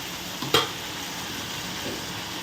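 Shallots and tomatoes frying in a pan for pea kurma give a steady, close sizzle with one sharp clatter near the start, and no voices.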